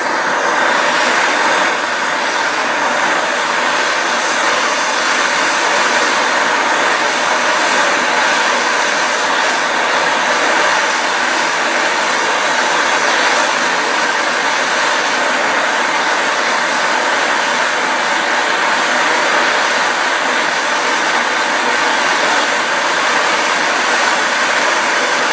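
MAP gas torch roaring steadily at close range while heating a rusty, stuck nut, a constant loud hissing rush with no pauses.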